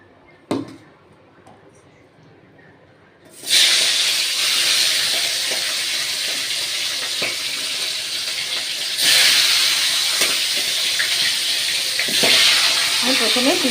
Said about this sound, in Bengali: আমি প্রথমে তিনটে অল্প অল্প করে মুড়োগুলো ভাজছি, ভালো মতো করে ভেজে নিতে হবে।